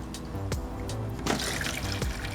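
Water poured from a container into another one, about a liter, splashing and spilling: a steady liquid rush with irregular splashes and gurgles, close and moderately loud, with no voices.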